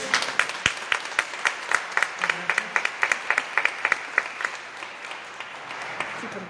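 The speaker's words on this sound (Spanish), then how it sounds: "Así que un otro aplauso de nuevo." Applause at a Mass during the third week of Advent, with a congregation clapping in a brisk, uneven patter for several seconds before thinning out toward the end.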